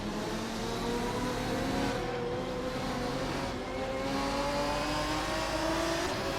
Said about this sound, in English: We are currently watching a race in a racing simulator